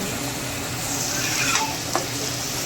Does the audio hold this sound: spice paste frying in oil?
yes